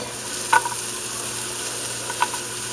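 Beef browning in a pan with oil and garlic for a beef stew gives a steady close sizzle, broken by a couple of scraping stirs.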